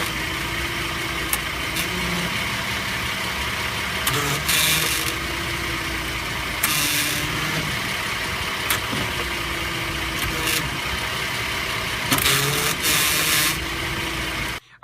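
A Ford F-series truck idles with a steady mid-range engine drone and a low buzz, recorded from underneath on an incline while gears are shifted, broken by several short bursts of broadband noise.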